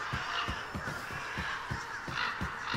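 Birds caw repeatedly in the ambient soundscape of the video game Absolver, harsh crow-like calls recurring in a loose rhythm over a steady background wash, with no speech.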